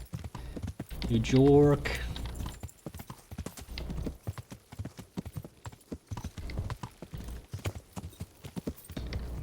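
Horse hooves clip-clop in Kingdom Come: Deliverance, a steady trotting beat under a voice, with a short horse whinny near the start.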